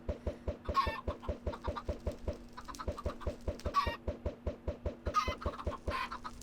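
Chickens in a large Minecraft chicken farm cluck in repeated bursts over a steady, rhythmic pulsing game sound, with no one talking.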